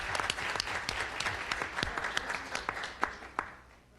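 Audience applause for an elementary school teacher at a school board meeting, a dense spread of claps that holds steady for about four seconds, with a few sharper claps near the end as it thins out. Background voices murmur faintly underneath.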